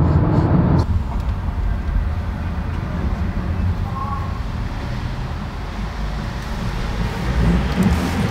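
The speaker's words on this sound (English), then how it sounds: "I've also noticed you do get a bit of wind noise at the higher motorway speeds" Steady broadband wind noise inside a Kia Niro Hybrid cruising at motorway speed, a continuous low rushing roar with no music playing, after a louder burst at the start.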